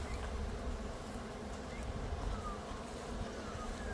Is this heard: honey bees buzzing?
yes